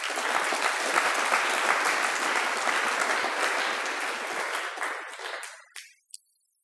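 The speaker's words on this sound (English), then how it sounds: "So I'd like you to give a round of applause," A large audience gives sustained applause, dense and steady, then fades out over the final second with a few last claps.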